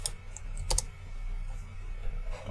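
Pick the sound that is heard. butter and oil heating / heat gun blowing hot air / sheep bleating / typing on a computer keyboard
typing on a computer keyboard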